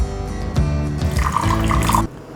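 Water is poured in, about three tablespoons, to a mixture of chilli sauce, vinegar, salt and black pepper for a sausage pizza topping, giving a close, steady trickle and splash lasting a couple of seconds before stopping abruptly.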